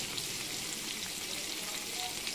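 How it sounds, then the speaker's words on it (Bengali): Winter melon pieces frying in hot oil give a steady, close hiss and crackle, even and unbroken for a couple of seconds. "এইভাবে লাল লাল করে ভেজে নেব।"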